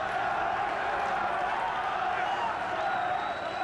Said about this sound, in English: the crowd are behind Gary here, obviously shouting for the home boy